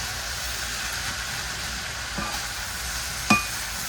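Chicken breast and ground turkey stir-frying in sesame oil, a steady low sizzle with a faint scrape of stirring and one sharp clink near the end, close and with no talking.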